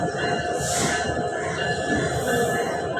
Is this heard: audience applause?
no